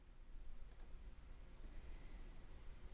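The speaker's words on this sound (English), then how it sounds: "So we click next." A single faint, quick click of a computer mouse, heard near and soft against a quiet room hum.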